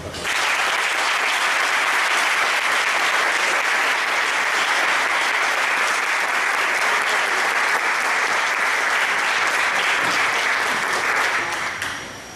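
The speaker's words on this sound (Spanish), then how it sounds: "le pido un fuerte aplauso" A conference audience in Capilla del Monte welcomes speaker Ricardo González with loud, dense applause that holds steady for about twelve seconds before tapering at the end, with no talking over it.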